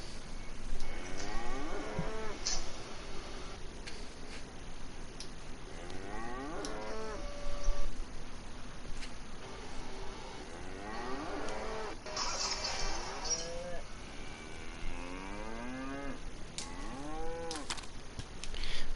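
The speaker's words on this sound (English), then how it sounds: "I found 3 more cows." Cows mooing in the DayZ video game, several drawn-out bellowing moos one after another over a steady background hum, fairly close and clear.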